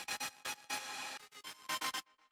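High layer of a wavetable chord synth for future bass, bright chopped chord stabs in quick rhythmic bursts with short gaps, alone and fairly loud.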